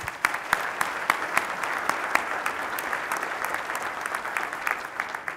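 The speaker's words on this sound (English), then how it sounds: "Let's give them a round of applause." At a legislative breakfast, the audience gives panelists and legislators a round of applause: sustained crowd clapping with distinct sharp claps standing out, fairly close and even throughout.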